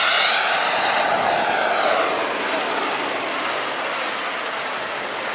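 An F-16 fighter jet roars overhead, a loud broadband rushing roar that slowly fades as it passes.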